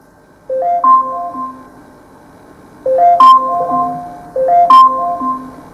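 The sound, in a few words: Amazon Alexa camera timer alarm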